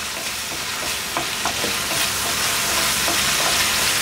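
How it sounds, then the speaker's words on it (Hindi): Ginger garlic paste fries in a pan while being stirred, a steady close sizzle with soft scraping strokes of the spoon spaced through it and no talking. "1 चम्मच भर के अदरक लहसुन का पेस्ट डालेंगे और 1 मिनट के लिए हम अदरक लहसुन को भून लेते हैं"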